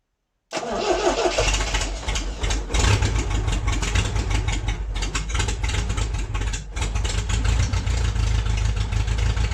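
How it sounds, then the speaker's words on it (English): An old MG car engine cranks and fires for the first time in 22 years, catching quickly into a loud, rough, uneven running with sputters and dips, heard up close and alone. "Let's see if it's gonna start now."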